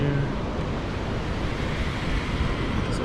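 Ocean waves wash on a beach near Starbase, a steady broad rush mixed with wind buffeting the microphone, heard from a vehicle with its window open.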